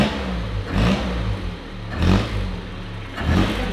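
A cold Isuzu Gemini barn-find car engine is revved three times, each blip rising and falling sharply over a steady idle, loud and close with no talking.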